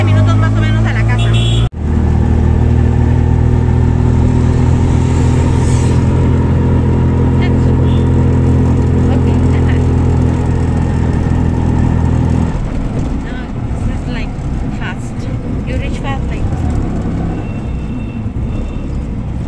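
Steady, loud engine drone of a car being driven, with a deep humming rumble that shifts to rougher road noise partway through.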